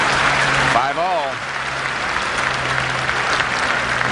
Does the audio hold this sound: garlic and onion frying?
no